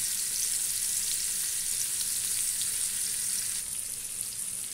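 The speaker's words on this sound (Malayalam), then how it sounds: "ഒരു ചെറിയ രീതിയിലുള്ള ഷാലോ ഫ്രൈ ആകാവുള്ളൂ" Masala chicken wings shallow fry in a pan over a low flame, producing a steady, even sizzle that stays close and constant, easing slightly near the end.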